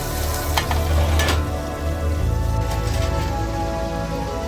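Kuppa fish pieces fry in a pan with a dense, loud, rain-like crackle of hot oil that stays steady over a low rumbling hum, with no one speaking.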